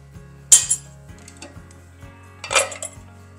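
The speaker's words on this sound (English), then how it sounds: "We're going to toss this in the crock pot and let it start cooking." Chopped kale and other soup ingredients tossed into a crock pot for chicken soup, heard as a few light metallic clinks and clatters of a spoon against the pot over a low steady hum.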